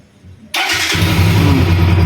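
A Bajaj Pulsar NS200 motorcycle engine cranks and fires up after a brief quiet moment, then settles into a loud, steady close-up idle with a low throbbing rumble.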